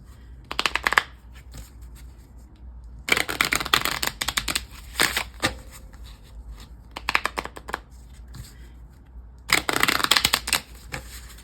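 Playing cards being shuffled in several quick riffling bursts, close and crisp, separated by short pauses.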